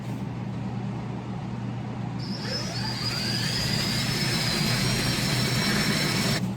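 A power drill bores an anchor hole in a commercial stainless steel faucet sink. A steady, loud mechanical drone runs throughout, and a high whine rises after about two seconds and holds until near the end.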